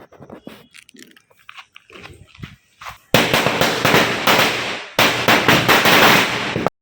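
Small firecrackers lit to celebrate Vishu in Kozhikode, Kerala, burst in rapid crackling strings, loud and close, after a few scattered pops and rustles.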